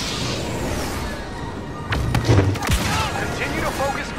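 Blaster gunfire aimed at an AT-AT walker in a Star Wars Battlefront walker assault: a dense wash of game battle noise with a burst of booming shots and thuds partway through, loud and continuous.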